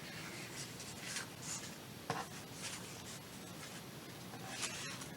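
Paper pages of a small Halloween book handled and shuffled, with soft rustles and light brushing strokes repeating steadily at close range with no talk.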